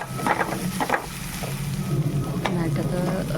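Sliced onions sautéing in a small pan for a dried prawn and mango curry, a steady sizzle with scraping stirs and clinks of a spoon, close and moderately loud, no talking.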